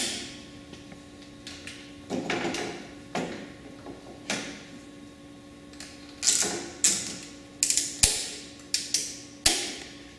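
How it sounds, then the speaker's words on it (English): Ratcheting buckles on a snowmobile ski rack give a run of sharp mechanical clicks and clacks, close and fairly quiet, tightening into quicker repeated ticks toward the end. "Just mount your skis into the rack with these easy ratcheting buckles."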